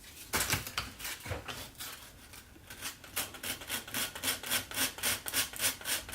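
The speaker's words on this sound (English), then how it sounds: "what I like to use is sandpaper. I just kind of pin it down onto the table." Sandpaper rubs back and forth over varnished wire pinned to a table, producing a soft, close scratching hiss in quick rhythmic strokes that grow steadier toward the end.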